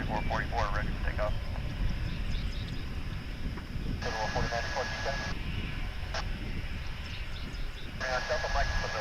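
An airliner at Dallas/Fort Worth International Airport bound for Salt Lake City, heard as a loud continuous low engine roar throughout, with radio voices cutting in over it.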